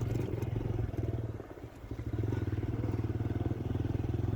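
A motorcycle engine idling and running on a road to a waterfall, a close, steady throbbing putter that dips briefly in the middle before resuming its even rhythm.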